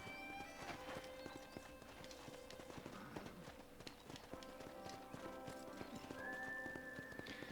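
Horse galloping in Red Dead Redemption on Xbox 360, rapid rhythmic clip-clop hoofbeats running continuously and fairly close, with a faint voice and a whinny mixed in.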